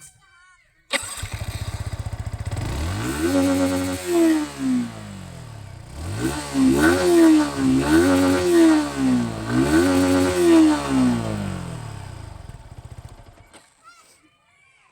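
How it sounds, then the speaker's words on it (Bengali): Yamaha XSR 155 motorcycle engine idling, then revved several times in a row, each rev rising and falling in pitch, loud and close, with a brief murmur from a person. "এরপরেই গাড়িটার এক্সস্ট নোটটা একবার শুনিয়ে দিই আপনাদের"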